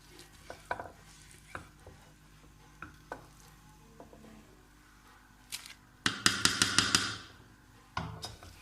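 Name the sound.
stirring grated carrots into kheer in a pot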